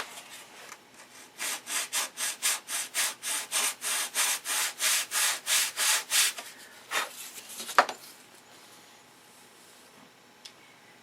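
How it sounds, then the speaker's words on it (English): A wooden model aircraft wing is sanded by hand with about fifteen steady, rhythmic rasping strokes, close and moderately loud. The strokes then slow and stop, followed by a sharp knock and quiet handling. "I have to sand a little bit on this."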